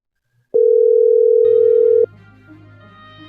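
A telephone dial tone sounds during a call, a loud steady pure beep lasting about a second and a half, followed by faint low background noise.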